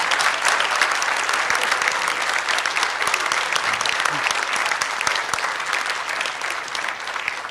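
Sustained audience applause fills an evening address hall, dense and steady throughout with no break, loud and close, many hands clapping together without voices on top.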